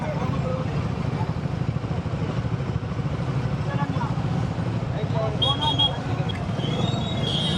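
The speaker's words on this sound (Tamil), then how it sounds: "சரியான டிராஃபிக்ங்க." Dense road traffic on a route in Tamil Nadu makes a constant low engine rumble with motorcycles and cars close by, heard from a bike ride, and people talk over it.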